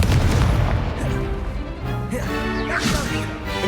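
The Confringo blasting spell explodes during a Hogwarts Legacy wizard duel, giving a sharp magical crack and burst, then a crackling whoosh and further spell effects in quick succession, loud and close.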